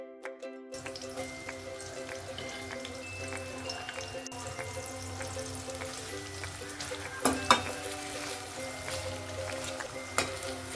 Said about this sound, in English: heat oil in a pan and fry sliced onions until they become golden brown